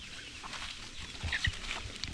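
Hens with their chicks clucking at a farm, with soft scattered clucks and a few brief high chick peeps at moderate distance over a quiet background.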